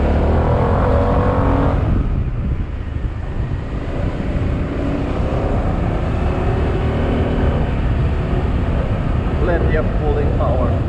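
A SYM Maxsym 400 scooter engine pulling up a hill, a steady loud drone mixed with wind rush that continues throughout, with a voice speaking briefly over it.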